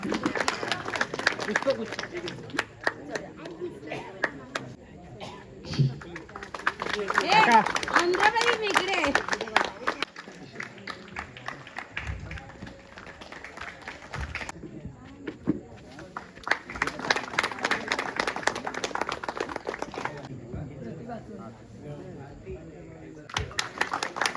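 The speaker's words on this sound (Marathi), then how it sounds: "टाळ्या." An audience claps at a village Buddha Purnima gathering in Rajapur, Konkan. Several bursts of crowd applause, each lasting a few seconds, alternate with a speaker talking between them.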